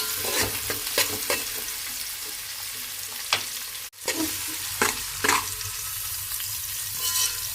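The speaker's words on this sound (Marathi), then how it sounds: "लालसर होईपर्यंत परतून घ्यायचा कांदा" Onion frying in hot oil in a pan until it turns reddish, a steady close sizzle with repeated scraping stir strokes and a brief pause midway.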